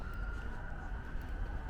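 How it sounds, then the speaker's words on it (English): A steady wailing siren far off, held as a continuous tone over a low rumble of traffic and outdoor noise, with no one speaking. "I can hear a lot of sirens in the background."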